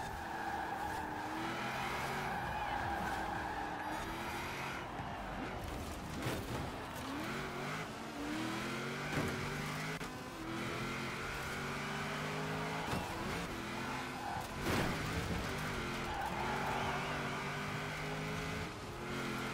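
A car driving in Forza Horizon 4 with a steady engine drone and repeated tire skids and squeals as it struggles to turn, continuous and moderately loud with no talking.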